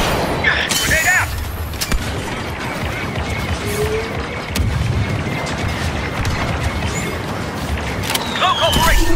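Star Wars Battlefront 2 Galactic Assault battle on Geonosis: a grenade blast and rolling gunfire with booming explosions, continuous and loud, under shouted in-game voices and sci-fi weapon zaps.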